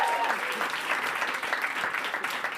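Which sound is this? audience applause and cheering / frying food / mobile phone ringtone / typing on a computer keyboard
audience applause and cheering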